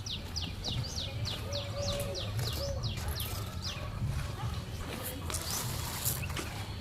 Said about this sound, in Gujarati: થોડી વાર જો તમે ચકલા દાણા ખાવા કેવા આવે છે.